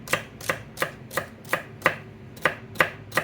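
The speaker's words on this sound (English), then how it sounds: "So just chop that back up" A knife chops a leftover piece of vegetable on a cutting board for shrimp and rice, with nine crisp, evenly spaced strikes at a steady rhythm, close and alone.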